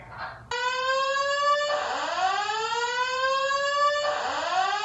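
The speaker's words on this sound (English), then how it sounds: "this is only a fire alarm test" A loud electronic fire alarm sounds continuously during a test in a student residence, a steady harmonic tone that sweeps downward twice before holding, with no voices.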